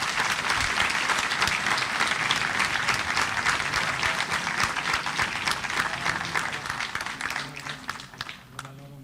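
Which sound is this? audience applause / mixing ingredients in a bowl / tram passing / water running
audience applause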